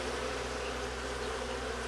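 Honeybees at an alpine-style beehive, a dense continuous buzzing drone from many bees close by, steady and unbroken, with no voices.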